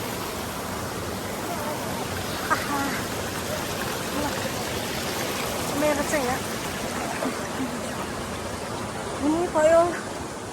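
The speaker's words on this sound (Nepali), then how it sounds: "पानीको आवाजले मेरो आवाजै सुनेन होला" A mountain river rushes over large boulders in a loud, continuous roar that fills the scene, while a person talks close by over it.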